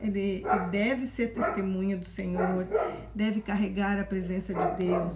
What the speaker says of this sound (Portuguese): desculpa o barulho do cachorro aí